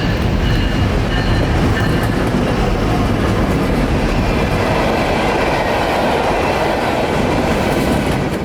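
A CSX freight train hauled by Tier 4 SD70ACe locomotives rolls past close by, giving a steady loud rumble and continuous wheel clatter with faint squeal for the whole stretch. No voices are heard.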